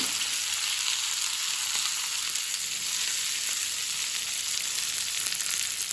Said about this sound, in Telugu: బెండకాయలు వేసేసుకొని ఇవి కొంచెం ఫ్రై అవ్వాలి.